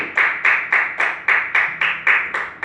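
Rhythmic hand clapping at a church service rings out with about ten sharp, evenly spaced claps on a steady beat. It is close and clear, with no voices.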